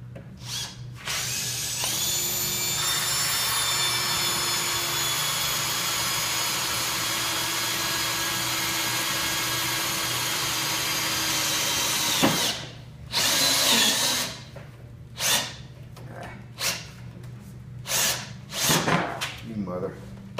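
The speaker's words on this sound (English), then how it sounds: "So on this slot, I'm just drilling a hole next to the one that's there" A power drill bores a hole in a table slot, a loud steady whine for about ten seconds that stops abruptly, followed by scattered clunks, handling noises and short bursts of activity nearby.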